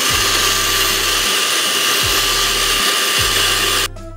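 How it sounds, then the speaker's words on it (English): A hand mixer whips cream cheese to stiff peaks, a loud steady motor whir with a few brief dips in pitch as the beaters move, close up and alone, cutting off at the end. "Now you want to grab a hand mixer, and we're just going to go ahead and mix it until it forms stiff peaks."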